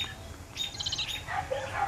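A baby bird squawks and chirps in short shrill calls while a snake tries to swallow it alive, fairly faint against steady outdoor background noise.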